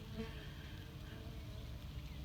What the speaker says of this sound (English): It is covered up with bees.